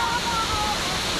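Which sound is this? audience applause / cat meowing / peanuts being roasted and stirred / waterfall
waterfall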